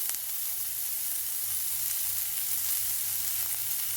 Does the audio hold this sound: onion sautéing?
yes